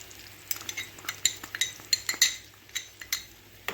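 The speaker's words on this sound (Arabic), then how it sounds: "هقلب كده واسيبها" Utensil scraping and clinking against a pan as potatoes are stirred with salt, pepper and cumin, a run of quiet irregular taps and scrapes close by with no voices.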